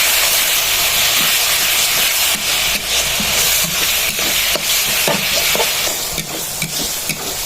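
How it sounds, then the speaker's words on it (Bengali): Ground whole-spice paste sautéing in hot oil in a pan, a loud, close, continuous hiss and sizzle broken by frequent stirring scrapes and clicks, with no talking. "দিয়ে একটু কষাই নেব"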